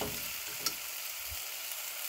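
Chicken curry frying in a pan as it is stirred, giving a steady, soft sizzle with one faint scrape against the pan. No one speaks over it.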